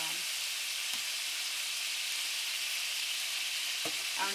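Beef browning in a hot pan before going into a slow cooker, a steady hiss of sizzling fat filling the whole stretch, with a few soft scrapes of stirring near the end.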